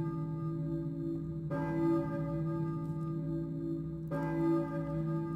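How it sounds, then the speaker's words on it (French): A church bell in the video game Silent Hill tolls twice, slow evenly spaced strikes with long humming resonant decay, sounding soft and distant with no talking over it. "J'entends une cloche au loin. Serait-ce une cloche d'église?"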